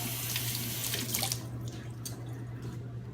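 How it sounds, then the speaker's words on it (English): Tap water running over a peeled potato under a kitchen faucet gives a soft, steady splashing stream with a low hum beneath it, close and fairly quiet, with no talk. "once you have your potato peeled, you're going to rinse it off"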